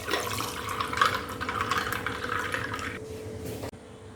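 Gur sharbat, a jaggery drink, is poured into a glass over ice cubes, making a continuous splashing, trickling stream for about three seconds that then stops abruptly.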